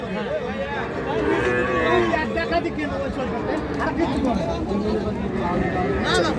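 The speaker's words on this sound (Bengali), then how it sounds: "এটাও কিন্তু একটা শাহিওয়াল জাতের বকনা গরু" Sahiwal heifers moo at a busy cattle market, their low calls rising through a dense crowd of chattering voices and nearby talk.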